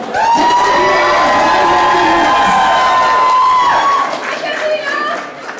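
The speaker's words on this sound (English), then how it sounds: "a big round of applause on that note." An audience at a Dabangg Reloaded press conference in San Francisco cheers and applauds, a loud burst of whoops and crowd noise that fades slightly toward the end.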